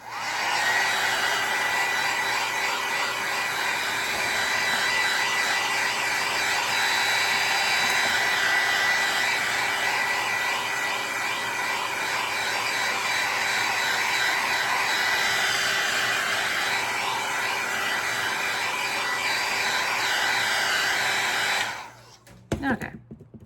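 A hair dryer blows steadily on a decoupaged metal can, a loud continuous whir that holds for about twenty seconds before cutting off with a few handling clicks.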